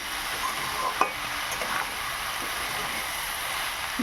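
Prawn curry with capsicum, carrot and potato stirred in a pan while frying, a steady broadband sizzle with scraping spoon strokes and a sharp clank near the start, no talking.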